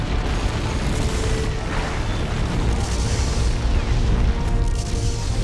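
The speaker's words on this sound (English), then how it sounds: "Orbital bombardment, killing some orcs." Orbital bombardment in Dawn of War II: Retribution, landing on orks as a sustained, loud, rumbling barrage of deep booms and blasts lasting several seconds.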